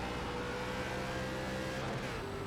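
An ARCA Menards race car engine in iRacing at Twin Ring Motegi drones steadily at high revs, a continuous whining roar with a slight pitch shift near the end.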